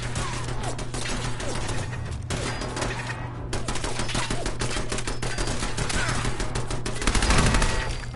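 Gunfire from turrets in Fallout 4, rapid dense bursts of shots and crackling impacts running almost without pause, loud and close, with a heavier thump near the end.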